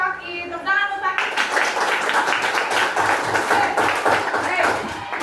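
Classroom applause from a group of children for a classmate named Paki, a dense burst of clapping that starts after a short spoken bit and keeps going steadily at close range, with young voices talking over it.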